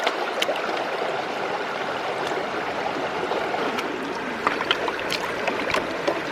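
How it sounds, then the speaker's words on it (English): Water washes over a gold sluice mat while buckets of side-channel pay dirt are cleaned out, a steady rushing and gurgling flow with scattered small splashes and knocks, no talking. "That's some real professional mat washing, Nonna."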